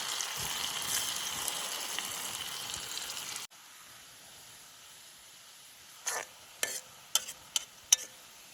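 Onions browning in a pan at a campsite give a steady close sizzle that cuts off abruptly, leaving quiet background broken by a few sharp clinks and scrapes.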